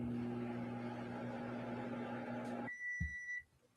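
A microwave oven hums steadily with a crisp rack inside, then stops and gives a short high beep, followed by a faint clunk as the cabin falls quiet.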